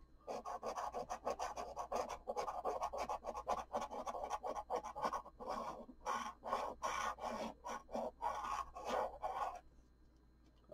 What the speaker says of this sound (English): let's go ahead and start scratching and see what we can find